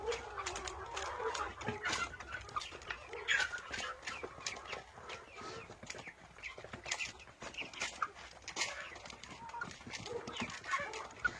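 Young chickens cluck and peep softly while pecking at feed of wheat and compound feed in a village yard, a steady murmur of small birds with a person speaking quietly over them.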